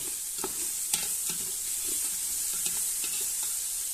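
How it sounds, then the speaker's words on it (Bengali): Onion sautéing with cardamom and cinnamon in a pan gives a continuous bright hiss of frying oil. Quick scraping stirs and small clicks recur throughout, and no voice is heard. "দেখেন এলাচি দারচিনিগুলি দিয়ে নিতেছি, এটার সাথে ভালো করে কষাই নেব"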